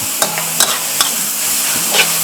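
Holy basil leaves stir-fried with chicken and instant noodles give a loud, close, continuous sizzle, with spatula strokes scraping the pan about four times.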